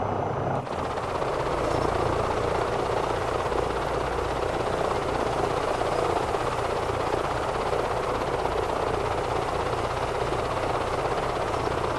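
An EC-135 helicopter in Microsoft Flight Simulator 2024 gives off a continuous loud rotor and turbine roar, steady and close for the whole stretch with no voices.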